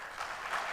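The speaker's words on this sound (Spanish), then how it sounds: "Un fuerte aplauso, por favor." Applause from a conference audience as a doctor is called to the podium, a steady dense wash of clapping throughout the short moment, no voices over it.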